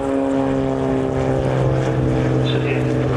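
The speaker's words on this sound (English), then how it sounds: "the rotor's turning now" A three-engine helicopter at an airshow with its rotor turning: a loud, steady mechanical drone with a pulsing hum and a high whine, continuous throughout, with a voice talking over it.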